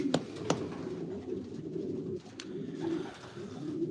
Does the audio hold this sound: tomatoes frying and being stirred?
no